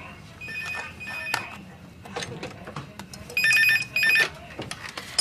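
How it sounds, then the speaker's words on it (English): A telephone rings in a domestic soap-opera setting, repeated bright electronic trills in short bursts, close and loud, with faint background movement between rings. "That's the phone."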